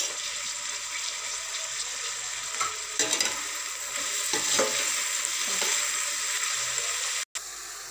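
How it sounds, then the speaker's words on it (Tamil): Green chilies and mint leaves sauté in a pan for a home-style chicken biryani. A soft, steady sizzle runs throughout, with a few stirring scrapes and clinks, close and fairly quiet. "சிறிதளவு புதினா தழைகளை சேர்த்து வதக்கவும்."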